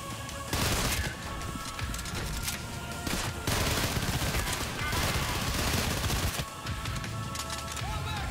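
Dense, sustained gunfire from weapons in a brutal first-person shooter game, with rapid overlapping bursts and loud crashing impacts across the whole stretch, briefly dipping twice before resuming.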